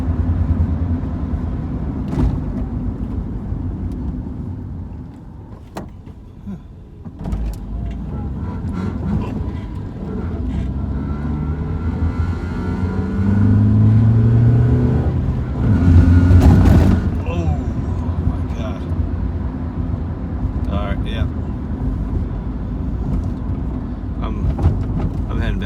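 A Honda car runs in fifth gear at about 40, its engine and road noise making a loud, steady rumble inside the cabin, with a surge partway through and bumps over the road.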